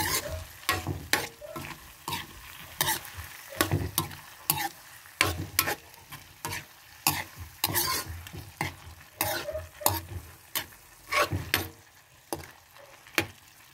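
Sliced okra fries in a pan for a simple home dinner while a utensil stirs it, making sharp repeated scraping clicks in an irregular rhythm over a soft, continuous sizzle, with no talking.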